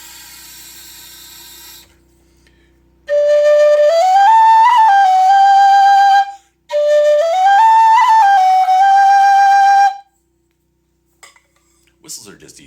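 A Goldie low D whistle plays two sustained phrases that rise from a low note and settle on a higher held tone, strong and near, with breathy overtones, preceded by a short burst of breath noise.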